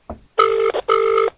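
A telephone ring tone sounds on a call being placed: two loud electronic trill bursts separated by a short gap, close and clear, preceded by a faint click.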